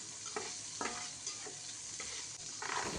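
Chopped dried chili pieces fry in hot oil for pui shak bhaji, giving a constant fine hiss and crackle at low volume, broken by a few soft scrapes of stirring.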